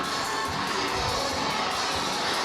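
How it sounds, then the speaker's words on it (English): Fans of Minneapolis North cheering at a high school boys basketball game, a steady wash of crowd noise with shouts and cheers, loud and continuous. "the North Polar fans continue to display. They are cheering until the very end"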